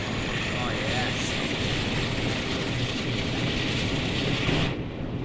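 Twin diesel engines of a UK train in Train Sim World 5 roar at full throttle, a loud, steady broadband drone that holds without a break until it cuts off abruptly near the end.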